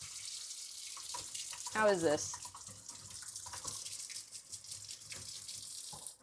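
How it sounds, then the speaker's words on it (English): Water runs steadily from a tap into a sink with a continuous close hiss for several seconds, while a voice briefly speaks over it. "Was the water really loud?"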